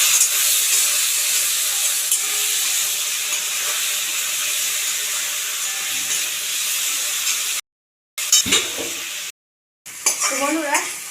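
Taro and hilsa fish curry sizzling and frying in a pan while being stirred, a steady close hiss of oil with soft scraping, broken by two brief silent gaps near the end.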